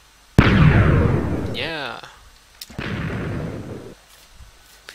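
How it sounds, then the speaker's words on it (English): A tunnel TNT cannon in Minecraft goes off twice, each a loud explosive burst trailing into a rumble, separated by a whooshing sweep; a voice briefly speaks. "this is a tunnel TNT cannon"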